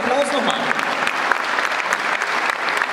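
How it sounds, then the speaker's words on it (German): Sustained, dense applause from an audience at a German Ice Hockey Hall of Fame induction ceremony, steady and fairly loud throughout, with voices faintly mixed in. "einen großen Applaus nochmal"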